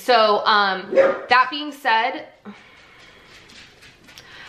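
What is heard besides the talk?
dog barking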